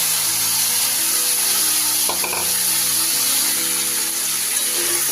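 Chicken marinated in black pepper frying in melted butter, a steady bright sizzle throughout with a brief stirring scrape in the middle, close and even.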